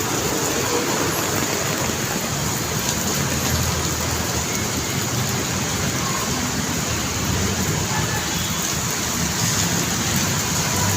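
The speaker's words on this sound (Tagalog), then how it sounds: "Lakas ng ulan." A steady downpour of heavy morning rain in Pasay, Metro Manila, fills the air with a constant, even roar of falling water from start to finish.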